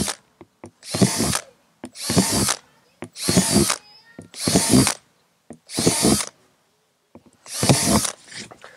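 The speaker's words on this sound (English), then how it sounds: "drill some more holes in the bottom of this container" A power drill whines in six short bursts, drilling holes in the bottom of a plastic pot, each about a second long, with brief pauses between them and small clicks in the gaps.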